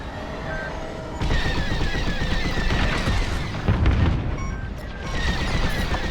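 Blaster fire rattles during a space battle in the Star Wars Squadrons game, dense rapid bursts over a constant loud combat roar with beeping and a heavier boom midway.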